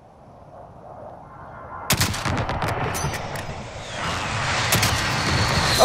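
Gunfire in Call of Duty: Modern Warfare: sharp shots crack out near the two-second mark, followed by a loud burst of rapid firing and another volley near the end, over steady battlefield rumble.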